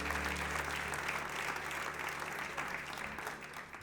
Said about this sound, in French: est-ce qu'on peut l'applaudir très très très très très fort?